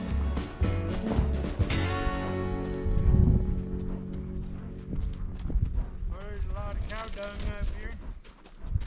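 Horse hooves clip-clopping over rocks while boondocking near Indian Bread Rock in Bowie, Arizona, a loose uneven rhythm up close, with wind and people talking over it.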